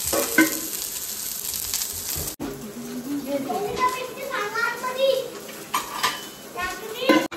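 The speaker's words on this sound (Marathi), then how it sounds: "आणि हा बिर्याणीसाठी वाटतं तेलमध्ये भाजायचंय कांदा" Onions fry in hot oil for a biryani in a home kitchen, a steady sizzle with clinks of pots and utensils while women chat over the cooking.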